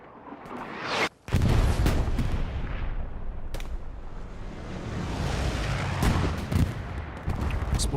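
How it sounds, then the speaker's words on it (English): A heavy explosion in the Hell Let Loose war game, a loud booming blast followed by sustained rumbling roar and scattered cracks of gunfire across the battlefield, with no talking. "Explosion happens over there to our right."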